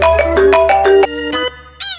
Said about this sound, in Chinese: 忽然手机响了起来。